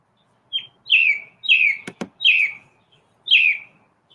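A pet bird gives a series of four bright, clear chirps at steady intervals, close and loud, with a couple of sharp knocks partway through and no talking.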